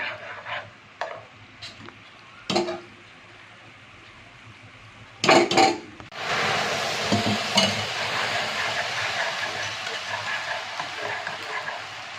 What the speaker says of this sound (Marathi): आता मी ह्याच्यामध्ये गरमच दूध टाकणार